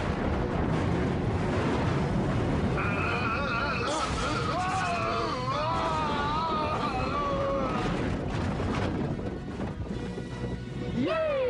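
Afterburners firing in a Power Rangers Ninja Storm action scene, a continuous heavy roaring, crashing effect with rumbling blasts, layered under dramatic music and voices throughout.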